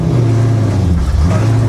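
The race-gas engine of a street-legal 1989 Mustang race car with a Tremec TKO 5-speed drones loud and close in a low, steady rumble, a brief snarl of sustained engine noise with no talking.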